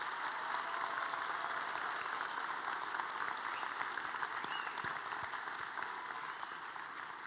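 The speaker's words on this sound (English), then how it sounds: "Please give these students a round of applause." An audience at a technical school completion ceremony applauds steadily, a dense even wash of clapping at moderate distance that slowly fades toward the end.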